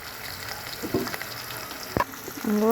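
Fish fried in hot oil on high heat sizzles steadily, with a few sharp clinks and pan knocks over the continuous crackle.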